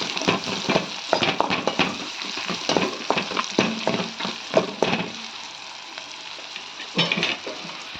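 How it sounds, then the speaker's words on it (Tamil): Onion with salt and turmeric sautéing in a pan, with a continuous sizzle broken by frequent scraping strokes of a spatula that pause briefly before resuming. "தேவையான அளவு மஞ்சள் பொடி சேர்த்து நல்லா வதக்கி வச்சுக்கலாம்"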